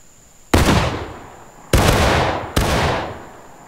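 Three loud musket shots in the Civil War video game War of Rights, fired irregularly as independent fire, each a sharp crack followed by a long rolling decay, with no talking.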